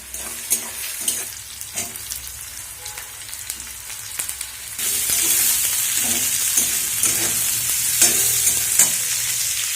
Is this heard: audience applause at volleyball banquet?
no